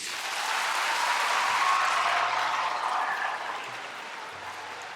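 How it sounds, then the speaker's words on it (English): Steady, moderately loud applause from a concert hall audience at a symphony orchestra youth concert, a continuous wash of clapping that gradually thins toward the end, with no talk over it. "It's time for you with your applause to make your choice."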